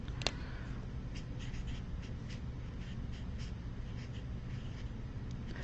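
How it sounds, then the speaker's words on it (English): Pen scratching on paper as a discount code is written down, quiet and continuous with small scribbling strokes over a steady background hiss. "I'll write it down."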